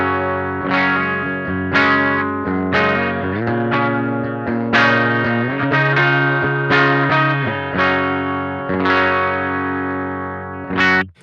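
An electric guitar through a Champion Leccy Dunsh gain pedal set to low gain plays slow, ringing chords with a light, slightly gritty overdrive, each strum sustaining and decaying before the next.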